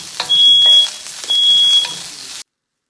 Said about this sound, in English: I actually had 2 separate fire alarms going off